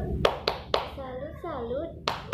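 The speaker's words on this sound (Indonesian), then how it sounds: "Kita tepuk salut untuk Bayu." Schoolchildren in a second-grade class give a rhythmic "tepuk salut" clap of sharp, evenly spaced hand claps in a short pattern, with a voice speaking between the beats.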